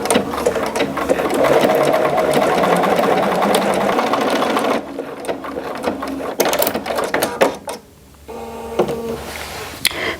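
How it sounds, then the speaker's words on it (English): A sewing machine runs steadily while stitching a decorative honeycomb stitch, loud and close, with a brief pause near the end before the motor starts up again. "And all I'm going to do now, I'm just going to do my honeycomb stitch."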